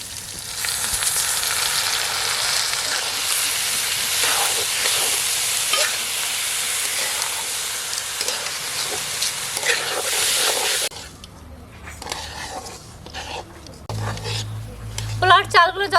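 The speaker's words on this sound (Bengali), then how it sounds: "পোলাওর চালগুলো যত ভালোভাবে ভাজা হবে, ভাতগুলো তত ঝুরঝুরে হবে" Polau rice frying in a pan with cashews and raisins for ilish polau, sizzling in a steady, loud hiss for about eleven seconds, then fainter stirring and clatter of the pan.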